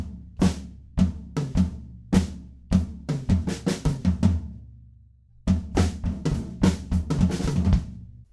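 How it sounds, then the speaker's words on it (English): A drum kit plays a busy pattern of kick, snare and cymbal hits, then pauses briefly and bursts into a rapid fill that rolls around the drums, a chorus fill from a song. "one example of a good fill to play in the chorus goes like this."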